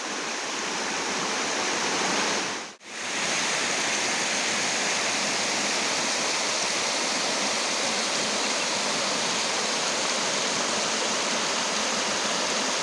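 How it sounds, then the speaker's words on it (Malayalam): Loud, constant roar of rushing water at Modavara Dam, broad and unbroken apart from one brief dropout near the start. "ഒരു സൈഡിൽ നല്ല കുത്തൊഴുക്കുണ്ട്."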